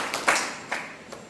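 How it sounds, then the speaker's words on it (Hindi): A group claps in sets at an outdoor NSS camp in a village, giving a few distinct, sharp collective claps spaced apart in a loose rhythm, moderately close, with no talking. "फिर मैं 7 ताली बजाऊंगा। पहले सेट में 1 और दूसरे 2 सेटों में 3-3।"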